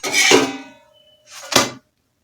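A cooked aloo paratha is set onto a plate, with two short, close scraping and clattering bursts about a second apart, each fading quickly into silence.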